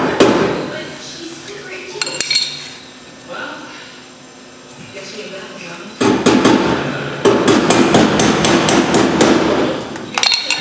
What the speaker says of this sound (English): So now I'll just take me a little hammer